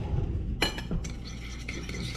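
A spoon stirs a brine of sugar and salt in liquid, made for salmon sashimi: a few close clinks of metal against a glass bowl, then soft swirling scrapes, with no talk.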